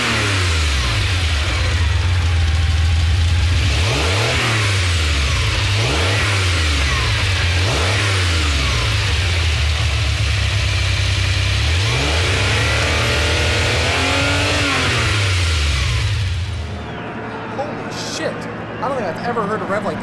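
Ferrari flat-12 engine in Gran Turismo Sport, blipped in a series of sharp revs that rise and fall repeatedly, loud and steady, with someone talking over it and the engine settling toward idle at the end.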